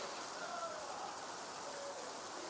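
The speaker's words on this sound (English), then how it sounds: "11 minutes of play left with that heavy rain mounting on the field." Rain falls hard on a football field during a schools tournament match, producing a constant broadband wash of hissing drops, even and unbroken throughout.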